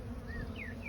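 Honeybees at an open hive being inspected, with drone cells on the comb, give a steady close insect hum with a few rising and falling buzzing tones of single bees flying past.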